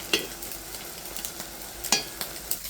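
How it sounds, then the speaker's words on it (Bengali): Taro mash simmering in a pan as its water cooks off, giving a soft steady sizzle with a few sharp scraping stirs of a spoon, close and fairly quiet. "তাই আমি জলটা শুকিয়ে নিচ্ছি"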